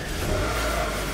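A new car's engine revs in a brief, loud, steady roar, heard up close with no talking.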